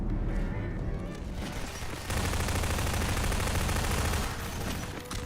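Sustained automatic gunfire in the shooting game Half-Life 2, dense rapid bursts that stay loud and continuous, with a brief shift in tone partway through, heard alone without talk.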